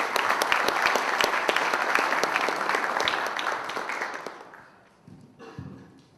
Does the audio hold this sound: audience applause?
yes